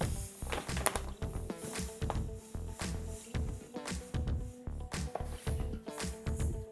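Sugar, water and oil being whisked together in a bowl, a continuous rhythmic clatter and tapping of the whisk against the bowl, close and busy with a faint tonal hum underneath.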